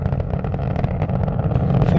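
Space Shuttle Atlantis's three liquid-fuel main engines roar during launch, heard from inside the cockpit as a steady, dense, loud rumble with a low vibrating texture and no break.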